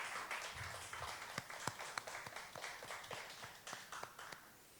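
A congregation claps at a Friday late-night prayer service, applauding a youth group's worship song; sharp, irregular claps ring out in a reverberant hall, with some standing out louder over a steady patter.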